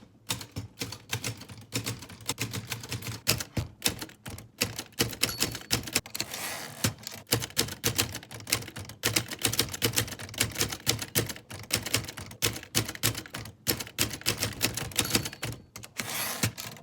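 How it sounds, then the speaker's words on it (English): A 1946 Remington Noiseless Model 7 typewriter types continuously, its dense, muted key strikes clattering softly at a fast, steady pace with no voices. "So here's a quick video showing you that."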